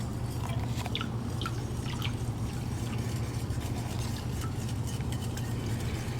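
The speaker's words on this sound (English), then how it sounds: "I'm going to mix my lye water into the oils" Lye water is poured and stirred into soap-making oils, giving soft liquid trickles and small drips with light utensil scrapes over a steady low background hum.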